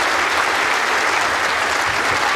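Crowd at the World Indoor Bowls Championship mixed pairs final applauding a shot, a dense, steady burst of clapping from a large indoor audience, loud and continuous throughout.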